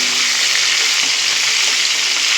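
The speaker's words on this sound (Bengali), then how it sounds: "মাঝারি লাল করে ভেজে নেব" Steady, loud sizzling of chicken frying in hot oil, a continuous crackling hiss with no voices.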